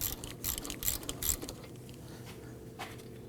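Ratchet wrench with a 17mm socket working a factory bolt on a 2005-2009 Subaru Legacy front wheel hub, a few quick clicking bursts early on, then quieter mechanical rattling and faint creaks.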